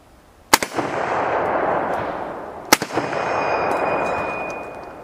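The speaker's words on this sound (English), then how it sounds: "I specifically wanted to come out here today to fire this rifle" M1 Garand rifle chambered in .30-06 fired outdoors, two sharp loud cracks about two seconds apart, each followed by a long rolling echo that fades slowly.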